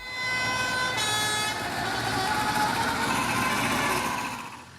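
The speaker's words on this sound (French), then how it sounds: "C'est un défilé visuel, mais aussi sonore, avec tous les klaxons." Decorated tractors parade through a village, honking their horns loudly in overlapping sustained blasts with engines rumbling underneath, and one horn drops out after about a second.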